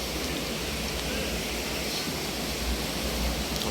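A mountain river on a foggy forest trek near Chikkamagaluru rushes steadily, a dense, unbroken roar of flowing water, close and loud throughout with no pauses.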